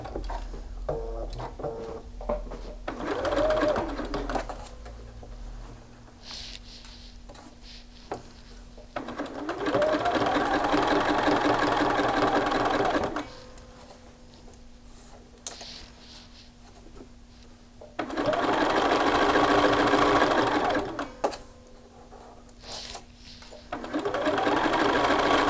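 Sewing machine top stitching a shirt shoulder seam in bursts of fast, steady whirring stitching, four runs separated by quiet pauses with faint handling clicks, close and clear with no talking.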